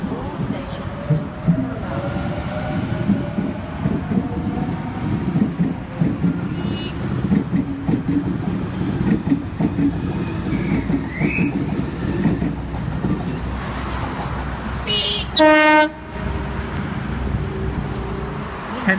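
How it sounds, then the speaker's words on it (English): A Sydney Trains Waratah set, A29, pulling out of platform 1 at Milsons Point: a steady rolling rumble of wheels and motors with some wind noise, a short beeping tone near the end, and a station announcement voice over it. "Waratah A29 now departing platform number 1"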